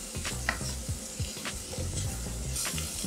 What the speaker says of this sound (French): Dans une casserole, un petit trait d'huile, on y met nos oignons.